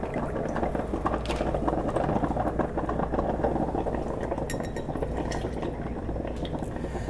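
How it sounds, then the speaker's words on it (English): Milk poured into a glass for a homemade iced cappuccino gives a quiet, continuous liquid trickle and fill sound, soft and close with no talking over it. "I'm going to put about 2 to 3 ounces of milk"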